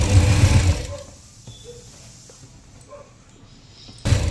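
Sewing machine stitching the side seam of a simple suit, a brief loud whirring burst at the start and end with quieter mechanical ticking and faint dog-like whimpers in between.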